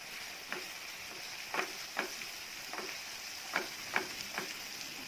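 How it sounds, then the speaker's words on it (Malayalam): Crushed ginger and garlic sautéing in a pan for a Thooli Meen Motta thoran, a soft steady sizzle broken by quiet, intermittent spoon taps and scrapes while stirring, faint and close. "ഇനി ഇതിലേക്ക് ഇഞ്ചി വെളുത്തുള്ളി നന്നായി ചതച്ചത് ഇട്ട് കൊടുക്കണം ഇനി അതും കൂടെ ചേർത്ത് ഇത് നന്നായി ഒന്ന് മുരിയിച്ചെടുക്കാം"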